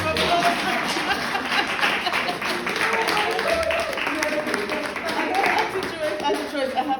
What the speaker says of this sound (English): Auntie Joyce deserves a round of applause